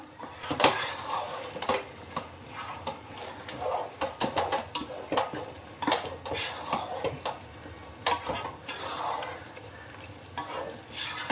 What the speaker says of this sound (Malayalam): അതും കൂടി നമുക്കിതിലേക്ക് ചേർക്കാം നന്നായിട്ട് മിക്സ് ചെയ്യാം